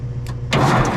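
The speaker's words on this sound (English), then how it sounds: "if I give power to this one, which is hooked up to the starter down below, I'm thinking it might try to bump the engine over" A starter on the engine of an old cabover truck that has sat for twenty years tries to turn the engine over, a brief whir followed by a louder churning burst, close and without talk.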